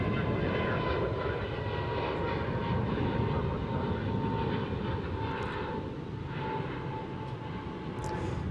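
An Airbus A321neo jet taking off gives a loud, continuous broadband roar with a steady engine tone, holding nearly constant throughout.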